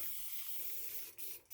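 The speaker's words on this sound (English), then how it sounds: "just spray it down." A handheld water spray bottle spritzes down a surface being cleaned, a steady close hiss of mist lasting over a second with two short pulses at the end.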